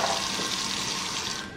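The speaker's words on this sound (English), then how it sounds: "Turn the water off." Water runs steadily from a kitchen tap into a sink during cooking of loaded baked potato soup, a close, continuous hiss and splash heard alone that eases slightly at the end.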